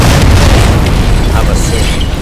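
A grenade explosion in the video game Sniper Elite 4 produces a loud, heavy boom with a rumbling, decaying low roar lasting a couple of seconds.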